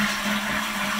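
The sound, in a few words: toilet flush, water hammer test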